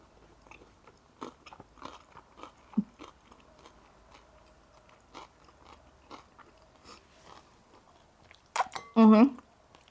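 Bites of pasta salad with cucumber and tomato, heard as close, soft chewing and crunching in scattered bursts, with brief utensil clinks and a short louder rustle near the end.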